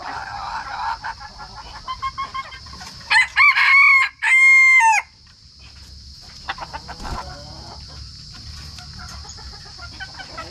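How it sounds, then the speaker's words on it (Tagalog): A wild junglefowl (labuyo) rooster on a farm crows loudly and close by, two long crows in a row, with scattered clucking and farmyard noise before and after. "Yung wild chicken, labuyo."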